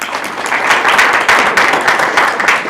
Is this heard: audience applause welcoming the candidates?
yes